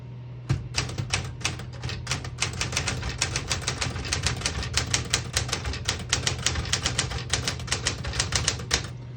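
Steady, rapid clacking of keys on a 1965 Smith-Corona Galaxie II portable typewriter, an even rhythm of crisp strikes continuing throughout, close up.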